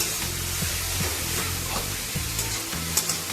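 Grated carrot sizzling in a little hot ghee while being stirred, a continuous close frying hiss with periodic scraping and knocking of the spatula against the pan over a low hum.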